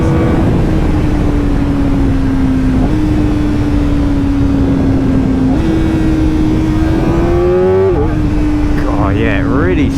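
A loud Kawasaki Ninja ZX-4RR motorcycle engine with stock exhaust revving steadily, its pitch climbing in steps and jumping sharply before settling, with a throaty exhaust note throughout.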